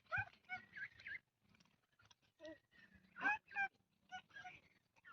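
A small flock of farm ducks being fed grain quack and honk in short, irregular bursts, fairly close but quiet, with brief pauses between calls.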